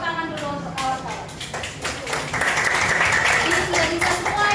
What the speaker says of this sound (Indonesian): Betul, kasih tepuk tangan dulu untuk kawan-kawan.